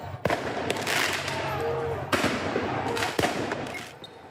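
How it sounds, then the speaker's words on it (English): Fireworks are fired at retreating police during a street clash: several sharp, loud bangs and cracks go off at irregular intervals over a rumbling crowd and traffic background. "some shot fireworks at retreating police"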